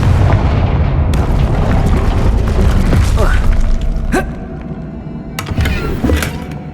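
A Confringo fire spell explosion in Hogwarts Legacy, a loud booming blast with a rumbling tail, followed by sharper cracks and crackling bursts, close and heavy in the low end.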